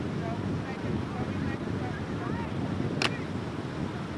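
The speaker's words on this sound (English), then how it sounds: "it's a windy day" Wind buffeting a beach at Ocean City on a blustery day, a steady broadband rumble and roar that holds throughout with a brief sharp click near the end.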